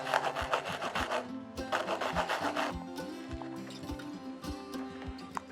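A compressed charcoal stick is rubbed back and forth on sandpaper laid flat on a table. It makes a steady, rhythmic, close rasping scrape with soft low knocks on each stroke, and no one speaks.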